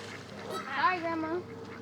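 Geese honk loudly and close by outdoors, a few nasal calls rising and falling in quick succession while a person speaks over them.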